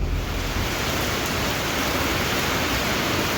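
Heavy rain pours steadily onto a farm field during oat and pea chopping, a dense, continuous hiss that stays loud and unbroken throughout with no voices.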